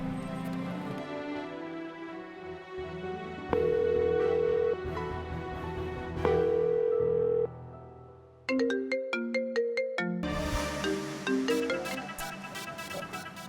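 A phone ringtone plays as a melodic electronic tune: sustained tones, then a rapid plinking run of higher notes, loud and steady over about thirteen seconds, with no voices.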